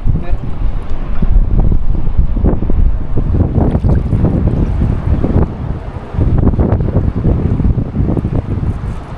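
Strong wind blowing across open water on a small boat, a loud, continuous rough roar of buffeting microphone noise with gusts, while people talk over it.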